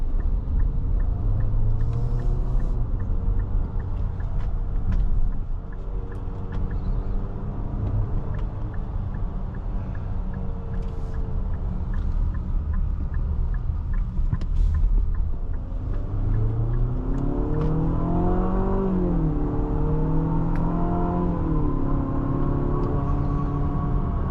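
A 2026 Infiniti QX60 Autograph accelerates smoothly from the cabin: a steady low engine rumble and road drone, with rising engine tones swelling near the end as speed builds.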